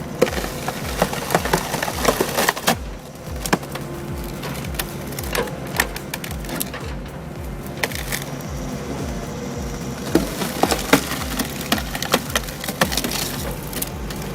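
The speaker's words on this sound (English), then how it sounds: "Oak logs don't surrender until this cone splitter gets involved." Oak logs being twisted apart by a cone splitter mounted on a 30-ton excavator, with continuous dense cracking, splintering and creaking of wood over a steady machine rumble, and sharper loud snaps breaking through at intervals.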